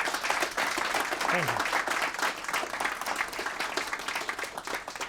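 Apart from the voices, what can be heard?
audience round of applause for a speaker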